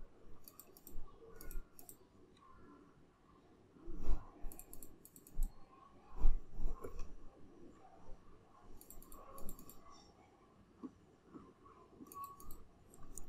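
A computer keyboard is tapped while working in AutoCAD, with irregular bursts of crisp key clicks and a few heavier presses, close and fairly quiet, and no voices.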